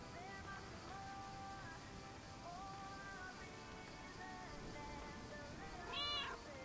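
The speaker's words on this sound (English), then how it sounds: "Is something wrong with the cats again?" Cats meow faintly and intermittently over a steady hiss like rain, with a few drawn-out calls scattered through and a louder, closer meow near the end.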